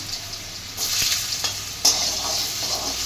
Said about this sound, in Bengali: অল্প একটা আলু কুচানো ছিল দিয়ে দিচ্ছি।